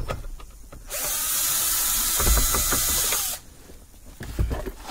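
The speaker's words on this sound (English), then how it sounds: "I'm going to go ahead and remove the screw." A power screwdriver whirs steadily for about two and a half seconds as it backs out a Phillips screw from the lower steering column cover of a Honda CR-V. Quieter handling noises come before and after.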